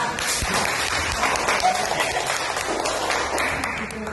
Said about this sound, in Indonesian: Tepuk tangan dulu dong nih untuk bintang tamu kedua bintang tamu kita